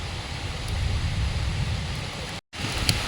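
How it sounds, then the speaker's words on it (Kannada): Heavy rain pours down during fishing in a storm, a dense, steady roar of close rainfall that briefly drops out for a moment before resuming. "ಓಕೆ, ಫುಲ್ ಮಳೆ ಬರ್ತಿದೆ, ನೋಡ್ಬೋದು"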